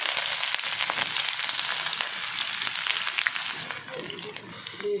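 Onion, garlic and green chilli sizzle and crackle steadily in hot oil, a dense close frying hiss that stays even throughout with small pops and stirring scrapes near the end.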